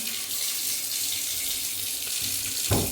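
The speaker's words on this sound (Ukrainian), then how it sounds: "І тут є кран." Water runs steadily from a bathroom tap in a newly renovated bathroom, a continuous close hiss of flow with a brief knock near the end, no talking.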